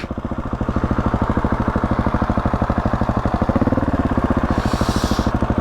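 A motorcycle engine runs with a rapid, steady chugging pulse while the rider feathers the clutch, the revs swelling briefly in the middle, loud and close with no talk.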